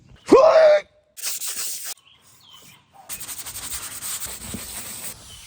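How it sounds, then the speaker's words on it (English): A 1991 Old Town Pathfinder canoe hull is sanded, giving short rough bursts of abrasive rubbing, nearby and fairly loud, with a brief squeak at the start and gaps between passes. "I've got this whole thing sanded down"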